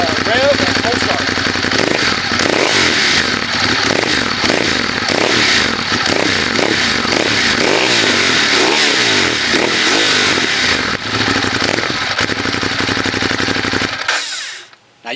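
A Ducati Monster 821 L-twin motorcycle engine cold-starts and revs, loud and close, with a raw, rapidly pulsing idle and repeated throttle blips that climb and fall before it cuts off abruptly near the end.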